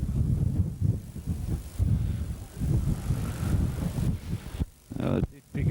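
Strong wind buffets across an open suburban football ground during a local league match, a steady loud roar with gusts that thump the microphone. A commentator's voice sits underneath at times.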